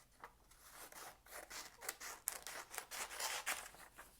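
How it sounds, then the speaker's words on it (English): Scissors snip repeatedly through paper in quick, irregular cuts, soft and close, with faint rustling between snips. "we're going to take our scissors"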